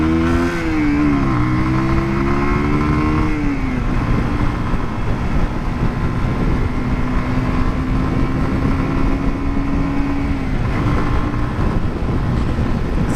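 A 2018 Zontes Monster 125cc motorcycle ridden on English roads, its small single engine droning and shifting pitch as it accelerates through the gears, then holding a steady buzzing tone under wind rush, close and loud.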